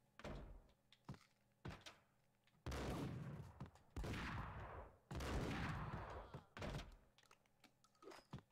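Gunfire in the Max Payne video game: repeated sharp shots and sustained loud bursts of firing, several long volleys separated by single cracks, with no talk over them.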